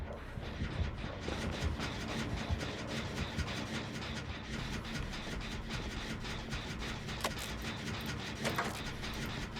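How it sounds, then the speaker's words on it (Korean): Construction work below a floor inside a survival horror game: a steady, grinding, scraping racket that holds for the full length at even loudness with no pauses. "저기 또 아래쪽 공사하네"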